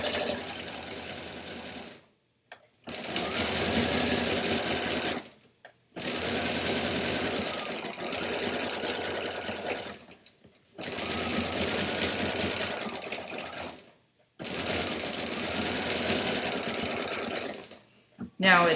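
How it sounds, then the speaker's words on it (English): A sewing machine stitching a quilt runs in four long bursts separated by short pauses, a close, steady mechanical whir, with a voice talking over it. "I'm going to sew a little bit more, just so that you can see what we're doing here."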